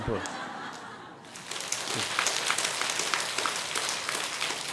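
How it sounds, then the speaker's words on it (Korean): A congregation at a priest's talk breaks into applause mixed with chuckles and laughter, steady clapping rising after a moment of speech and continuing under murmuring voices. "못 알아들어도 박수는 치세요."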